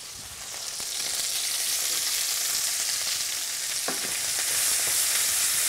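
Chopped onion sizzling hard in a hot pan for a chicken cacciatore sauce, a loud, even hiss that builds after the first moment and holds steady, with a few faint clinks of stirring and no talk.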